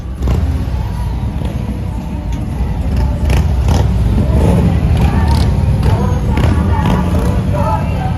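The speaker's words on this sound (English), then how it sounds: "All the Santas riding their Harleys." Harley motorcycles rumbling past in a Christmas motorcade of riders dressed as Santa on a Manhattan street, loud continuous engine drone with revving, crowd noise and a voice talking over it.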